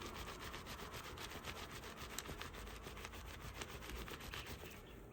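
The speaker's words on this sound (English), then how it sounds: "I'm going to take the stain and I'm going to rub it in like this." Tide Ultra Oxi stain spray is scrubbed into a piece of clothing, giving a soft, steady rhythmic rubbing of fabric, close up and quiet, with no speech.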